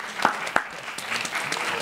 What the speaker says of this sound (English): Sister Sonia, you've already been introduced and showered with a little applause twice.